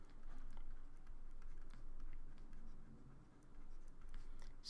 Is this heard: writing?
yes